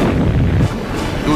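Artillery cannon fire along the Pakistan–India border, a heavy booming blast that rolls with low rumble, loud and close, followed by a lingering dull echo.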